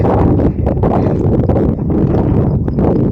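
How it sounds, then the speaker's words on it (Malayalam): Strong wind gusting across a hillside trail in the Periyar tiger reserve during misty rain, a dense, steady roar that buffets the microphone throughout, with a brief dip before resuming. "നല്ല കാറ്റുമുണ്ട്."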